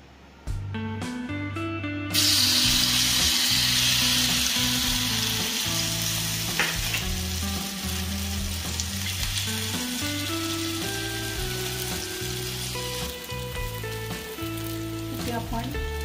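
Oil sizzles in a hot pan for pancakes, a steady frying hiss that swells louder after a couple of seconds, layered over continuous music with low tonal bass.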